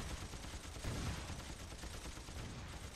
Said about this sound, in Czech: No náš těžký tank dává teda pěkný rány.